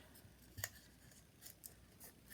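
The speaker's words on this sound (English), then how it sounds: "And I'm using my sticky scissors." A few quiet, crisp snips of sticky scissors cutting, spaced irregularly, with faint rustling between them.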